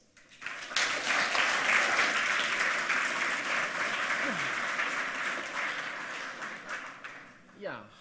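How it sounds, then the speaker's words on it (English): Sustained audience applause at a conference talk, a dense wash of many hands clapping that swells quickly, holds steady for several seconds, then thins out near the end. "So give them a warm applause."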